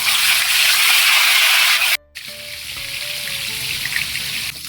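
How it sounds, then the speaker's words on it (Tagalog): Tofu frying in a pan with a loud, steady broadband sizzle that cuts out briefly partway through, then resumes slightly softer with small crackles. "Tokwa. Tara, luto tayo. Yan mga katambay, piriton tayo."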